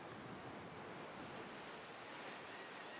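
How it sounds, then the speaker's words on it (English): Ocean waves built from three layered wave recordings for a reggae track intro: a dense, even wash of surf hiss that stays loud and constant, with no distinct breaks between swells. "So the waves that you're hearing are actually 3 separate wave sounds."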